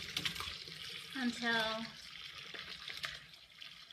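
Bone broth poured through a fine mesh strainer, a brief gurgling liquid stream in the middle, surrounded by a soft voice talking before and after.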